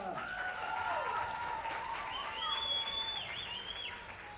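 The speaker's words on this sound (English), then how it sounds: "Let's give another round of applause to Alyssa." Audience applause at a middle school talent show, a steady wash of clapping across the whole stretch, mixed with crowd noise and a few raised voices and whistle-like tones.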